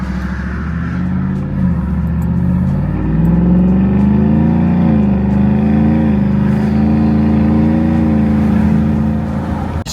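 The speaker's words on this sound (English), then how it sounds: "You got an F-150, get you a Corsa Extreme catback exhaust." A single-cab Ford F-150 fitted with a Corsa Extreme catback exhaust pulls away under throttle, its deep, loud exhaust rumble rising and falling in pitch as it accelerates and shifts, heard close and alone.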